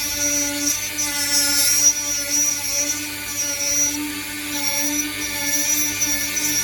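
A Dremel rotary tool grinds into juniper wood, a steady high whine with harmonic tones held throughout, loud and close, rising and easing slightly as pressure changes.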